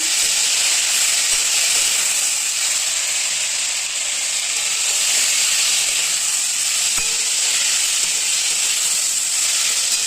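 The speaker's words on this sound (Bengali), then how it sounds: "একটুখানি হলুদ গুঁড়ো, এটাকে ভালো করে ভেজে নেব।" Steady, loud hiss of spices and turmeric powder frying in a pan, an even sizzle holding without pause and with no talking.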